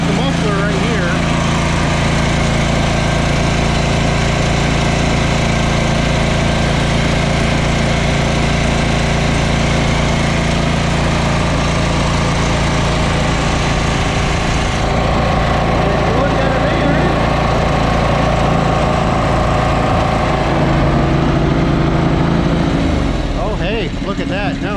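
A John Deere 445 lawn tractor engine runs loud and close at a steady idle, a continuous throbbing drone with a smoking muffler, while a person speaks over it.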